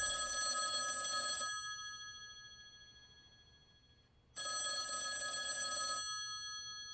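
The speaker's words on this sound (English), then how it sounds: "that phone over there is gonna ring" A telephone bell rings in two long bursts separated by a silent gap, the first fading away before the second starts, fairly quiet and heard on its own.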